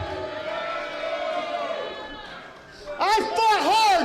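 A wrestling crowd roars and cheers at a steady loud level, with a voice shouting over the noise toward the end.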